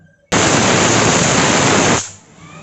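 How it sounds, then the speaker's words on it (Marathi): A pressure cooker cooking leftover-curry masala rice lets off a sudden, loud burst of hissing steam. The close, steady blast lasts nearly two seconds, then cuts off abruptly into quiet. "कुकरची फक्त आता दोन शिट्टी करून घेणार आहोत आपण"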